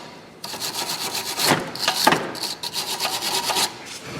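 A car's rear shock absorber mounting nut is scraped clean, giving close, harsh rasping strokes in rhythmic bursts with brief pauses between them.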